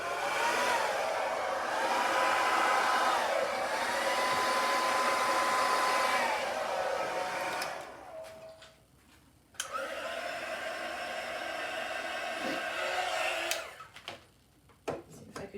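A hair dryer blows a steady roar of air over a neon pink and white acrylic Dutch pour on canvas. The sound runs loud and continuous, cuts out briefly, then resumes before sputtering off.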